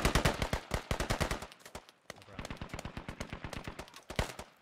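Rapid automatic gunfire from a Squad multiplayer battle, dense bursts of sharp cracks in quick rhythmic volleys with a brief lull, close and loud throughout.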